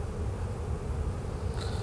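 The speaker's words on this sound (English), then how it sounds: "So you could hear the tone of the bees has changed." Dense, steady buzzing of many honey bees in an open hive close by, a continuous low drone with no pauses and no voices.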